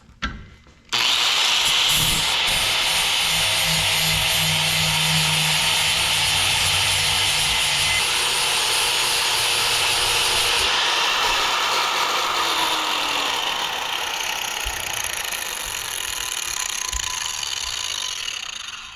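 A power grinder smooths a welded steel driveshaft safety loop, starting abruptly and holding a loud, continuous high-pitched whine with gritty abrasive noise, pitch shifting slightly as it bears on the metal.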